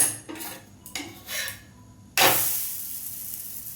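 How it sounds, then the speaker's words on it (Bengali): An oil-brushed spinach paratha on a hot pan: a few light utensil clicks and scrapes, then a sudden loud sizzle as it is pressed down, fading slowly. "দিয়ে একটু চেপে চেপে সেঁকে নেবো"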